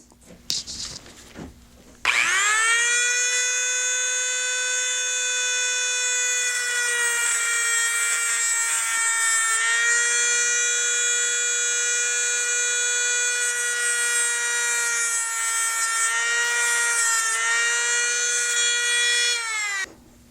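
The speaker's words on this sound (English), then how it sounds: "if you've got a small little Dremel with a cutting wheel, you can actually make some small notches" A small Dremel with a cutting wheel notching a transmission dipstick on a Chrysler 62TE, a loud, steady high-pitched whine that holds for about eighteen seconds after a few short scrapes.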